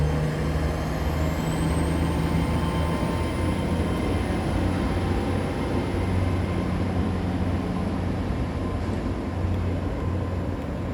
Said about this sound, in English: Right now is the 10:43 Great Western Railway service to London Paddington from Bristol Temple Meads.